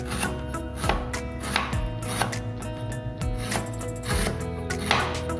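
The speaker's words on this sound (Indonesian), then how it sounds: "Kita iris-iris lengkuasnya." A knife slicing galangal root on a cutting board, with a steady run of crisp, close chopping strokes, several a second, and no talk.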